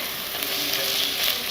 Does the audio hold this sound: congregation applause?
no